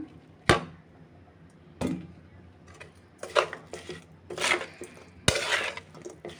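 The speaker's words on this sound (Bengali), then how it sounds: "এবার মাছগুলো একটু ভালো করে মেখে নেব" Small fish being mixed with spices by hand in a bowl, heard as a few sharp close clinks and knocks against the bowl with soft rustling squelches between them.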